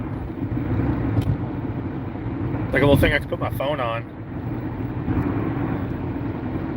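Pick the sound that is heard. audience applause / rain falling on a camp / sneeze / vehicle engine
vehicle engine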